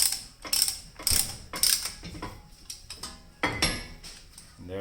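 A caliper piston compressor tool ratchets in a series of sharp mechanical clicks and clunks while pushing the brake pistons back into a Toyota Sienna front caliper, close up and with no talk.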